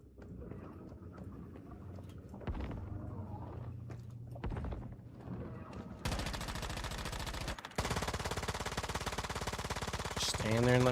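Gunfire in the survival shooter Once Human, bursts of rapid automatic shots that turn into dense sustained fire in the second half, close and loud with other game sounds underneath.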